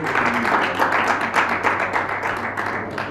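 Applause fills a parliamentary chamber as members clap in a dense, continuous patter of many hands, moderately loud and steady for a few seconds without any talking.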